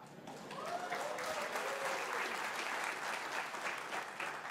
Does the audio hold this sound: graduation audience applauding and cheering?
yes